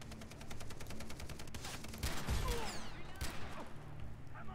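Rapid gunfire in Far Cry 3 co-op play, a fast burst of repeated shots followed by louder heavy blasts and clattering, with a faint voice in the background.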